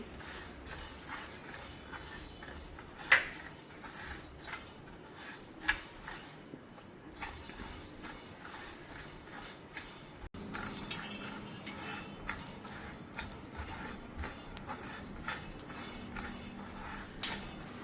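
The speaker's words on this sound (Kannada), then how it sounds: "ಈಗ 2 ಟೇಬಲ್ ಸ್ಪೂನ್ ಆಗುವಷ್ಟು ಕೊತ್ತಂಬರಿ ಬೀಜವನ್ನು ಹಾಕಿ ಹುರ್ಕೊಳ್ತಾ ಇದ್ದೀನಿ." Coriander seeds dry-roasting in a pan, with a spoon scraping and stirring in a steady stream of soft rattles and clinks, plus an occasional sharper metallic tap, close and fairly quiet, no voices.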